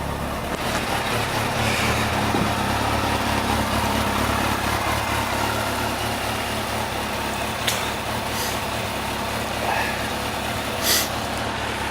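A vehicle engine idles and warms up after being driven out of the house, a steady low rumble holding close and even with a few faint clicks on top.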